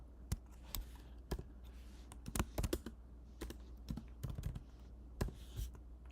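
Fast, irregular typing on a computer keyboard, with close, crisp key taps in uneven bursts over a steady low hum and no talking.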